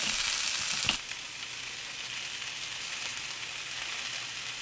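Eggplant and zucchini roast in a dry frying pan with no oil, giving a steady close sizzle and faint frying crackle after a brief clatter near the start.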